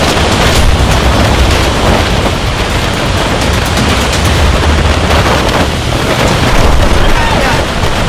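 Strong wind from Typhoon Ulysses roars loud and steady across a beach, a dense, continuous rush of gusts and buffeting that stays up close for the whole stretch.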